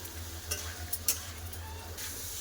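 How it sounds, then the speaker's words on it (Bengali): Ridge gourd with dry spices and a splash of water sizzles quietly in a pan, a low steady hiss broken by a few soft stirring scrapes and clicks, close but faint. "একটু জল দিয়ে কষে নেবো"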